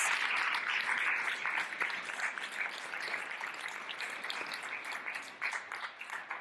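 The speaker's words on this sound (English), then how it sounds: "Let's give our Moroccan colleagues another big round of applause." An audience of lawyers at a bar association gathering in Marrakech gives a round of applause for Moroccan colleagues, a full sustained clatter of many hands that gradually thins toward the end.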